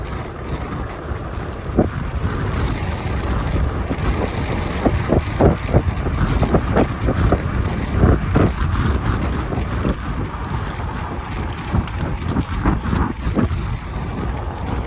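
Steady, heavy wind buffets the microphone while riding a powerful electric scooter, a continuous roaring rush with gusty crackles and no voices.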